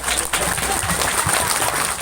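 An audience at an Islamic religious lecture in Sungai Pinyuh, West Kalimantan, breaks into brief, dense clapping, loud and continuous, with some voices mixed in.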